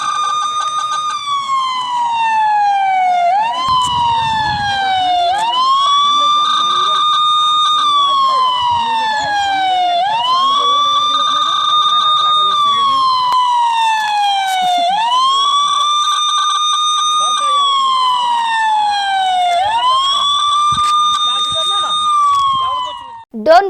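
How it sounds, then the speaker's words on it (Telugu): Police siren sounding in a town during a lockdown, wailing in long rising and falling sweeps that repeat about every five seconds, loud, close and unbroken for the whole stretch. "పోలీస్ సైరన్ కూడా పెట్టి"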